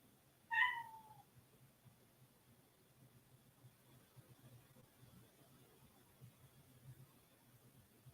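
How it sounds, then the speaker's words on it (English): A single short cat meow rings out near the start, clear but moderate, followed by quiet low background hum for several seconds. "You mean my cats."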